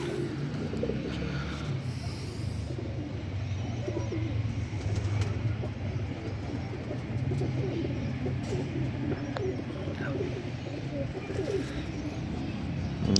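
A Sialkoti pearl pigeon coos in soft, repeated low murmurs over a steady outdoor background, with occasional faint chirps and distant noise throughout.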